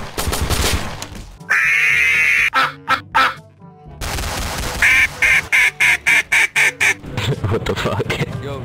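Cartoonish duck quacks from a soundboard in Garry's Mod DarkRP, first as a sustained honking quack, then a rapid rhythmic string of short quacks, loud and close, with game noise and people talking between bursts.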